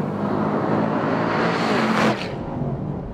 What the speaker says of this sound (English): What's great about the SS is the engine note.